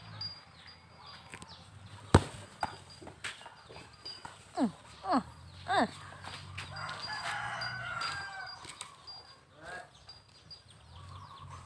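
A chicken clucks in a short series of sharp, rising calls near the microphone, over outdoor background noise and occasional thumps.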